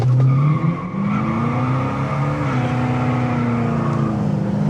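Loud, continuous tire squeal as a 1971 Pontiac GTO does a burnout, engine droning and pitch rising, close and sustained.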